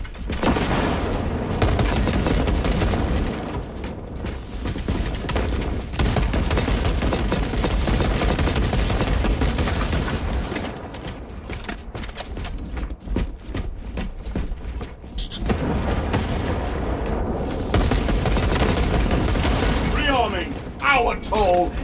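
Grenade explosions and rapid gunfire in the video game Warhammer Space Marine 2, dense and loud booms and bursts filling most of the stretch, with a short lull in the middle, and voices speaking over the combat.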